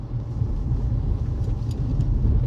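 Low steady rumble of a car rolling along a city street close behind, a continuous engine-and-tire drone with no talking.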